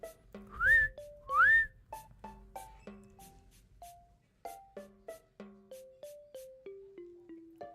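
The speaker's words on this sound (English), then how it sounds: "Wait, you can hear the whistle?" A person whistles a slow series of short notes, with a couple of rising swoops near the start, close and clear in a quiet room.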